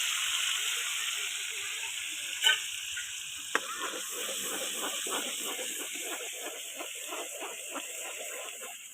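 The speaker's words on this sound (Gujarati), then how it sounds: "હવે જો મારા મમ્મી એ ડુંગળી નાખી દીધી છે" Onions sizzling in a pan for Manchurian, a soft steady fry hiss with faint stirring clicks and a couple of sharp knocks, quiet and close, with some speech-like sounds under it.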